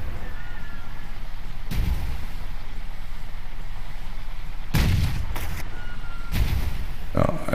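Blast cannons fire in the video game Sea of Craft, giving a few heavy, booming blasts spaced seconds apart over a constant low game rumble.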